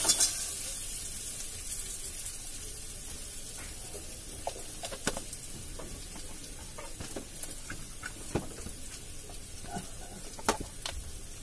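Onions fry in a pan with a soft, crackling sizzle, broken by sharp clinks and scrapes of stirring; fairly quiet and close, with no talk.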